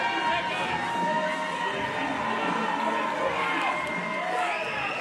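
A wrestling crowd at a pro wrestling show cheers and shouts continuously after a match, a dense, loud roar of many voices with whoops that holds steady throughout.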